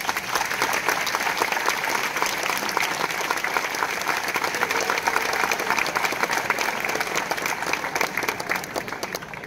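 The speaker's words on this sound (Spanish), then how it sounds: "un aplauso para ellos" Audience applause for football club staff at a season presentation, steady dense clapping that is fairly loud and continuous throughout with no talking.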